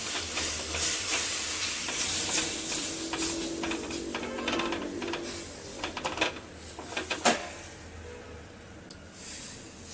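Custard powder and sugar being stirred in a pan, giving a soft continuous scraping swirl with a faint sizzle, broken late by a few sharper clinks of the spoon against the pan.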